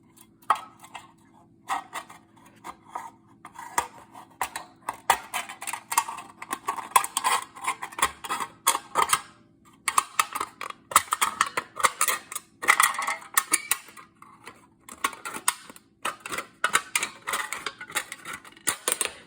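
Rapid crisp snipping and crinkling as worn scissors cut an aluminum soda can, irregular bursts of sharp clicks with brief pauses, close up.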